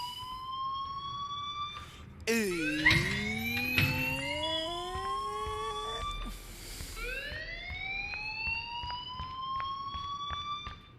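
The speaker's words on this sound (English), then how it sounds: "please turn off that alarm" A fire alarm wails in the Life is Strange video game, with loud sweeping siren tones rising and falling continuously, broken by a sharp crack and a brief pause, over game background sound.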